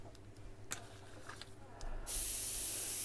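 Aerosol spray can laying down a coat: a few faint taps and quiet shuffling, then a sudden loud, steady close-up hiss bursts in about two-thirds through and holds to the end, with no voices.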